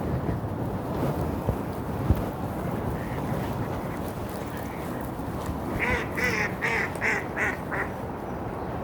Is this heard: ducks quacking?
yes